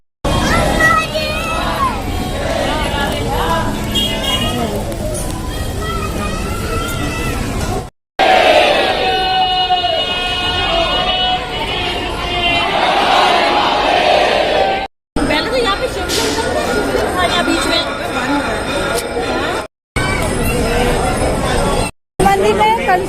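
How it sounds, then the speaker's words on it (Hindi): A dense crowd at a Hindu temple during aarti, a loud, shifting babble of many voices with shouts and chanting, cut by several abrupt breaks; nearby speech mixes in throughout. "बहुत ज्यादा भीड़ है, क्योंकि आरती के टाइम पे हो ही जाती है"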